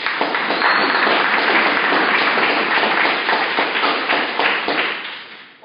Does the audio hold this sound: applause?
yes